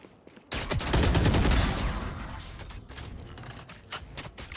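Gunfire in the video game Valorant: a sudden loud burst of automatic fire that rings out and decays, followed by a string of quieter clicking shots and mechanical taps.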